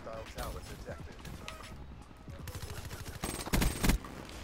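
Gunfire from Black Ops 3, a dense, fast burst of shots under steady excited talk, with louder close bursts near the end.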